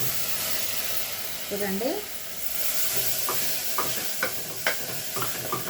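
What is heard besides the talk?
tomatoes added to pan, sizzling and stirring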